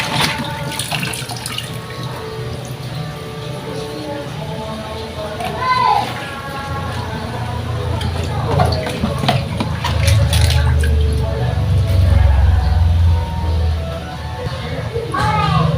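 Fish being rinsed under running water in a home kitchen, a steady splashing trickle with intermittent drips, while children play and talk in the background.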